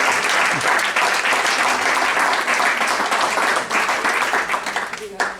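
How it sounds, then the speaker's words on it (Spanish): Audience applause at a talk on the origins of handball in Puerto Sagunto, a dense, steady burst of clapping from a crowd filling the room, loud and sustained before tapering slightly at the end. "no me resisto a que les demos un fuerte aplauso"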